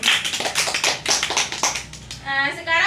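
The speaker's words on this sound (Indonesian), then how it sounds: "tepuk tangan untuk kita hari ini." Children in a classroom clap together in a quick, uneven burst of many hands for about two seconds, fairly close, ending as a voice begins speaking.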